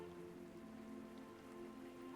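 Steady rainfall patters on surfaces in a fantasy video game, a soft continuous hiss of drops with no pauses, faint and uniform throughout.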